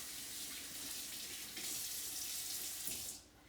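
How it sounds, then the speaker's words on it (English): A kitchen tap runs steadily into a sink while hands are washed during liver recipe preparation, a close, even rush of water that cuts off near the end. "And wash my hands again."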